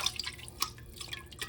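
Water poured over chicken broth solids in a strainer, made in an Instant Pot, giving close, soft dripping and trickling splashes with a few sharper drops, no talk.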